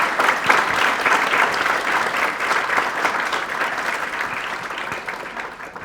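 An audience applauds at an employment panel discussion in El Salvador, with sustained, dense clapping that fills the room and slowly tapers off.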